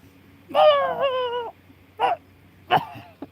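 A person imitates a dog crying with a drawn-out whimpering howl, then two shorter whining yelps, close and clear against a quiet indoor background.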